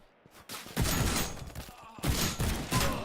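Bursts of gunfire from an indie developer's own shooter game, loud repeated cracks in clusters with short gaps between them, each with a metallic headshot impact.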